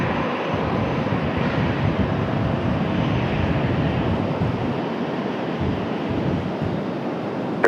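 A fixed-wing airliner on its takeoff roll from runway 22 left at Raleigh-Durham International Airport, a steady broad engine roar heard from a distance that holds at an even level throughout.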